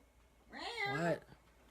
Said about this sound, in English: You're meowing at me.